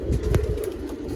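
Pigeons in a loft give short low cooing calls close by, a brief burst with no talking over it.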